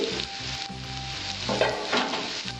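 Bitter gourd and potato sizzle in an uncovered pan, a close, steady frying hiss with a few louder crackling swells and no talk.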